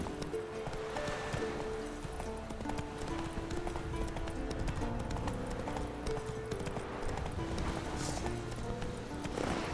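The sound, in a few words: horse Roach galloping in The Witcher 3 video game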